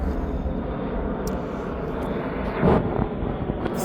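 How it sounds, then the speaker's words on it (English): An airplane flies overhead near an airport, heard from a suburban backyard garden as a steady broadband roar that fills the whole stretch and swells slightly toward the end. "sorry about the plane"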